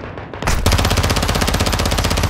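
Sustained automatic machine gun fire in Call of Duty Modern Warfare 2, a rapid, even burst of close, loud shots running for about two seconds after a short lead-in.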